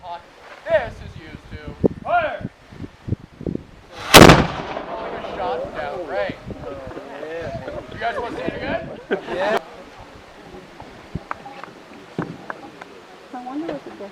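A historic cannon fires at Fort Ticonderoga, New York, a single loud, sharp blast around the four-second mark. Before and after it, outdoor rustle, wind noise and scattered crowd voices continue.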